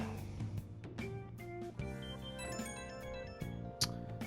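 A phone ringing in Persona 5 Royal, a soft electronic ringtone with repeated tonal pulses heard quietly over in-game music, with no voices.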